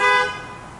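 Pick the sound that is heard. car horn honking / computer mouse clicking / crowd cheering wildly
car horn honking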